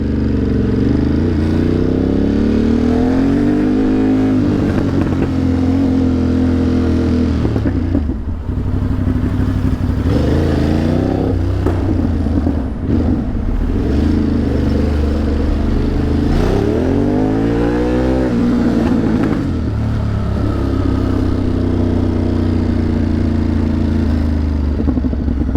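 A motorcycle ridden along at a shop named Triumph, its engine droning loud and close with repeated rising and falling revs as it accelerates and shifts, a continuous rumble with no voices.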